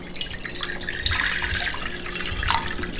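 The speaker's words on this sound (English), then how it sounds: "I might have to just pour this water down here or something." Water pours and splashes into a sink in a short, steady trickle with a few drips, close by and moderately loud.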